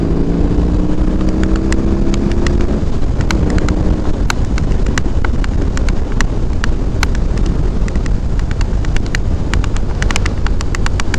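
A BMW R18 motorcycle out on a chilly ride, with a steady loud engine drone mixed with heavy wind roar over the microphone, and a low rising engine tone early on while accelerating.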